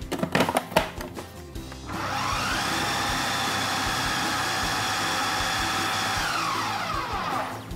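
A food processor spins its blades through cheese, butter and dry scone ingredients, starting after a few knocks and clatters. It then holds a loud, steady motor whine with a rough churning texture for several seconds.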